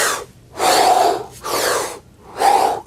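A person demonstrates breathing with slow, deep breaths: four loud, close airy inhalations and exhalations in a steady rhythm, with short quiet gaps between them.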